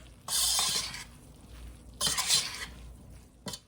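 Chili ingredients stirred together in a bowl with a spoon, two short bursts of scraping and clinking, followed by a brief tap, soft and close.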